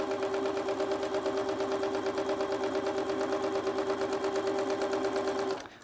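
A sewing machine stitches quilt pieces together, its needle running in a fast, even, mechanical rattle with a steady motor hum for several seconds before it stops, close and loud with no talking.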